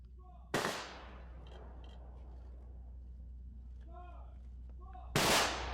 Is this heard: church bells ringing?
no